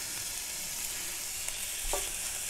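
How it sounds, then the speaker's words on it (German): Ground beef and chopped pickled jalapeños fry in a pot, giving a steady close sizzle with a few faint scrapes and clicks of stirring. "Und jetzt erstmal schön anbraten lassen. So, unser Hackfleisch kriegt jetzt langsam Röstaromen."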